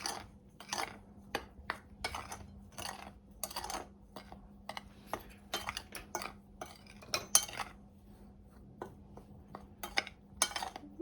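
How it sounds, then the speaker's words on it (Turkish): A spoon scrapes and clinks around a bowl as dry batter ingredients for hush puppies are mixed, giving irregular close, crisp taps and rattles with short pauses between. "Ve iyice bir karıştırıyoruz"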